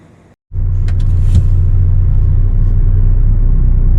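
A car engine catches after a brief quiet and settles into a loud, close, steady rumble as the vehicle begins to pull away, with no talk over it.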